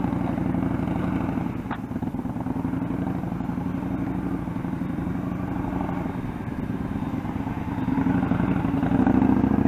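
A motorcycle ridden slowly with the clutch slipping and pressure on the rear brake, its engine a steady, close, low-pitched drone that rises slightly near the end.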